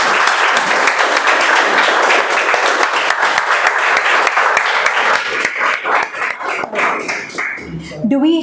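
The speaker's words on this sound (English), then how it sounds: "I think each of you deserve a round of applause for being here." A room full of people at a Sunday morning Toastmasters club meeting bursts into loud, sustained applause, dense clapping that holds steady before thinning out and fading at the end.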